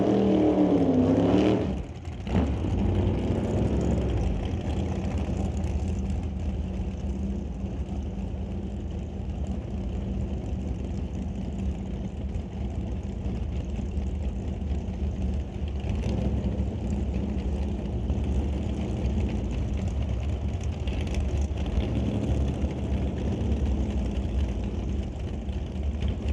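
A 1967 Chevy II and a 615 cubic inch big block Chevy dragster at a drag strip, their engines giving a steady, moderately distant rumble with a brief louder burst at the start.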